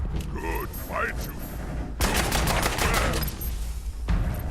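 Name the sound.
gunfire from the video game Fallout 76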